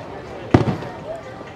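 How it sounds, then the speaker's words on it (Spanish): A single distant firework burst pops once at night over Puerto Vallarta, heard from a rooftop restaurant amid low background chatter and ambience. "Por allá ya hay cohetes."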